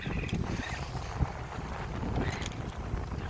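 Wind gusts rushing across the microphone aboard a First 22 sailboat out on the ocean, a loud continuous buffeting roar that swells and eases, with water noise beneath and no voices.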